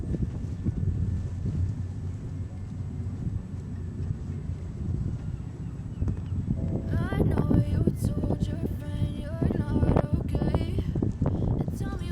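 Wind gusts across a microphone at a harbour berth on a boat's stern, a steady rushing roar with low rumbling throughout, joined later by faint creaks and rattles.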